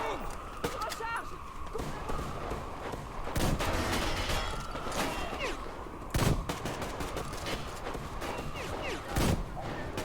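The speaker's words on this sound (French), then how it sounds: "je lui ai tiré dessus là" Gunfire in Metro Exodus, with repeated sharp shots and a few louder bursts over continuous game noise and a voice talking in French.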